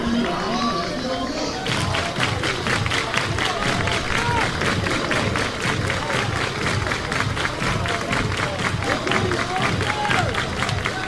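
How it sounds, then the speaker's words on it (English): A college baseball crowd at an NCAA regional in Chapel Hill, North Carolina versus Oklahoma, breaks into fast, steady rhythmic clapping that carries on throughout over a loud stadium din. "Crowd is electric."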